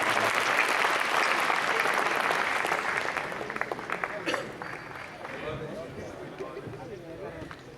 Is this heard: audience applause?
yes